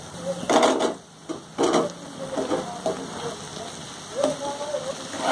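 Fried potatoes tumble into a pan of cooked-down spice masala for spicy egg pakora curry, giving short sizzling bursts and crackles against a soft background hiss, close and moderately loud.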